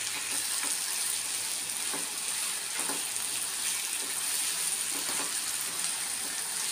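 Godavari prawns fry in a pan with a steady, dense sizzle and crackle that runs unbroken throughout, close and even in loudness, with no voices.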